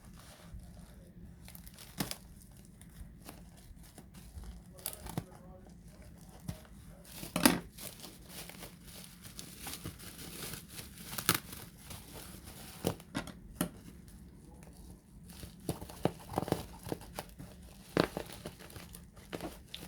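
Plastic packaging around a bee swarm egg toy being opened and unwrapped up close, with steady crinkling and tearing broken by sharper crunches and rustles throughout.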